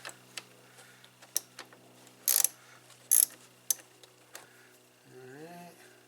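A ratchet clicks while loosening a 10 mm bolt on a 2009 Ram truck, with scattered ticks and two louder bursts of ratcheting up close, and a brief voice near the end.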